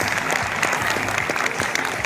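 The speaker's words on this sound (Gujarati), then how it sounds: "મિત્રો જોરદાર તાળીઓ પાડી દો એમ." An audience at an honor ceremony claps loudly, a brisk burst of many hands with a murmur of voices beneath.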